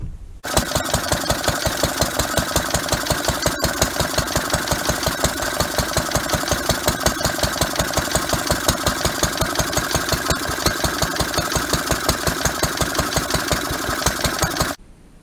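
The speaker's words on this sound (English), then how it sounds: "the belt was slipping quite a lot and the two machines were not at the same kind of RPM" A Lister D stationary diesel engine belt-drives an air compressor, running steadily with a fast, even chugging beat throughout, loud and close, no voices.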